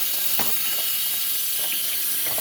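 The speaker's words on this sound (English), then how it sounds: "I just got to wash my hands" Tap water running into a sink while hands are washed, a steady close hiss with a few soft splashes and knocks breaking through.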